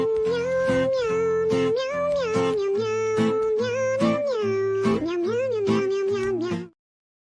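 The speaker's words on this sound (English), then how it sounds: "Here's the kitty cat." A cat meowing sound effect plays as a loud, continuous run of repeated meows with rich harmonics, close and steady for several seconds before it cuts off abruptly, with no talking over it.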